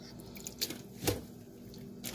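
Water draining from washed bitter leaf in a kitchen, heard as quiet drips and soft wet splashes with a few small spikes, close and faint, with no talking.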